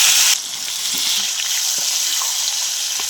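Dry spices and tomato frying in a pan for a cauliflower-paneer vegetable biryani, a steady bright sizzle that flares loudly at the start as the tomato goes in, then settles into a continuous hiss with faint stirring clicks.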